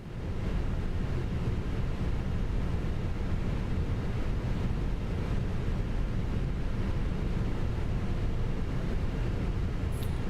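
An Airbus A319 engine starts up in Microsoft Flight Simulator 2024, heard as a loud, steady, dense roar that holds evenly throughout with no voices over it.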